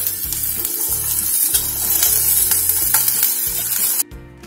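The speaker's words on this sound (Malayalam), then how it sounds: "ഇനി ഇതിലേക്ക് നമ്മൾ അരിഞ്ഞു വെച്ചിട്ടുള്ള വെജിറ്റബിൾസ് ഓരോന്നായി ചേർത്ത് കൊടുക്കാം." Chopped vegetables sizzling in a hot pan for a vegetable kurma, loud continuous frying hiss with rhythmic scraping stirs, close up and alone, cut off abruptly near the end.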